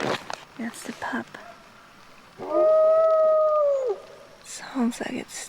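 A lone wolf pup on the Canadian west coast howls a single long, rising-then-falling call, clear and fairly close, with soft whispering before and after.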